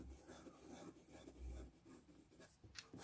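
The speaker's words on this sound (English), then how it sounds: "it writes very quickly. You don't have any skipping." A Montblanc Le Grand Traveller 147 cartridge-filled fountain pen writing on paper, a soft continuous scratching with quick strokes, very quiet and close, with no voices.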